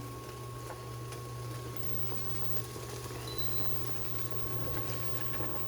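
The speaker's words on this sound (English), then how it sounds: "this is boiling too much, boiling over" A pot of ramen noodles boils over hard with a steady rush of bubbling and hissing over a constant low hum. No one speaks.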